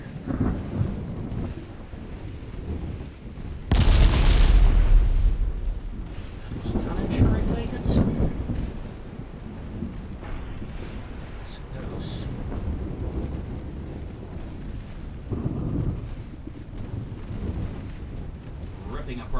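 Warship guns open fire in the naval battle game Ultimate Admiral Dreadnoughts, with a loud booming salvo followed by rumbling and further distant shots, under a voice.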